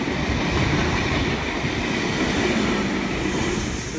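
A loud, continuous roar of a train coming through a railway station, with rolling wheel noise and faint rail squeal that stay steady for several seconds and no voices over it.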